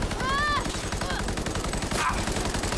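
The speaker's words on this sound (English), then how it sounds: "let's try out this assault rifle" An assault rifle fires steadily in Cyberpunk 2077, a dense, continuous stream of rapid shots that stays loud throughout, with brief electronic tones layered over it.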